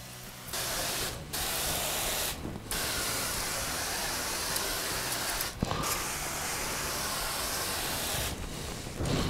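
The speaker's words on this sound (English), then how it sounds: "take the sprayer and spray underneath the window" Pump sprayer applying borate wood treatment beneath a window indoors, a steady close hiss of spray running in long bursts broken by a few brief pauses, with small mechanical clicks.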